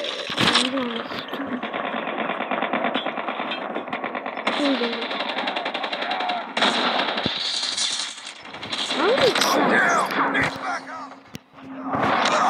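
Rapid automatic gunfire rattles continuously in a video game, with bursts, pauses and a few single shots, while players shout over the top.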